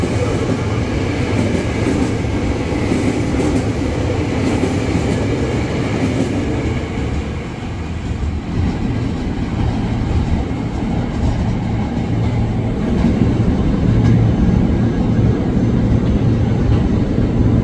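KRL Commuter Line electric train (JR 205 and TM 600 sets) running through the upper level of Manggarai Station, Jakarta, a steady loud rumble with rail clatter continuing throughout, no voices.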